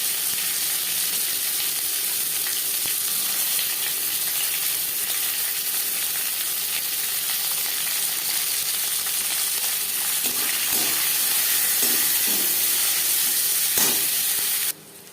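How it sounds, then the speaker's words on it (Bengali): Chopped onions fry in hot oil with dry chillies and torn bay leaf for a stall-style dal fry, a steady loud sizzle with occasional stirring scrapes throughout. "পেঁয়াজ লালচে করে ভাজা হয়ে গেছে"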